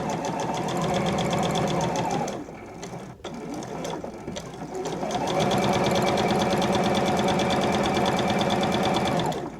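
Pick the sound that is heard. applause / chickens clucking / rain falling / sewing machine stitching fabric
sewing machine stitching fabric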